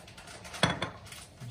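A metal pressure cooker pot clanks against a surface with a sharp clatter followed by a lighter knock, then quiet.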